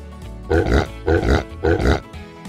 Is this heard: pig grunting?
yes